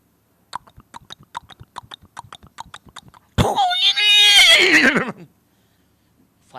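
A voice imitates a horse, first with a quick run of crisp clicking beats like galloping hooves, then a loud, wavering whinnying neigh that fades out.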